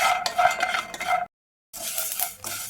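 Almonds dry-roasting in a pan are stirred with a utensil, giving steady scraping and rattling over a soft sizzle, broken by a brief silent pause before the stirring resumes.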